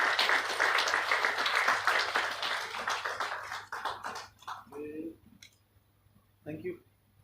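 Audience at an international conference on secure cyber computing applauds, dense clapping for several seconds that thins out and stops, followed by a short spoken voice.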